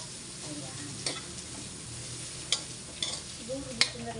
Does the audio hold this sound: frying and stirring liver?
yes